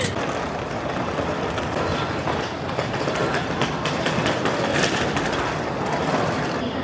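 A Shinkansen bullet train at a station, its loud, continuous rolling rumble and rail noise filling the whole stretch with no pauses and no talking.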